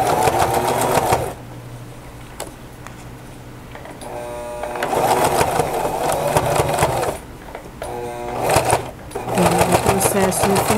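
Domestic sewing machine backstitching along the hem of a cotton dish towel with a printed border, loud rapid whirring runs of stitching broken by short pauses and clicks as the fabric is turned.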